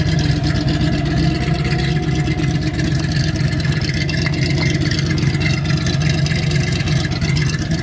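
A 1962 Chevrolet Corvette roadster with its 327 V8 rumbles steadily while driving on a cold day, a loud, continuous low engine drone with wind and road noise mixed in.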